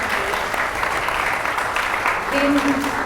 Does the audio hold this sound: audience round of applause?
yes